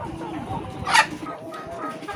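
A desi chicken gives a short, sharp cluck over a soft, steady background murmur of barnyard noise on a farm.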